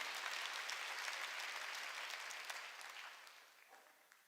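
Church congregation applauding during a sermon: a dense wash of clapping that holds steady, then gradually thins and fades toward the end, heard alone.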